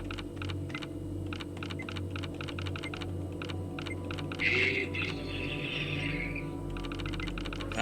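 Computer keyboard arrow keys are tapped repeatedly while playing Conarium, a Lovecraftian horror game. Quick clusters of crisp clicks sit close over a low droning game ambience, with no speech.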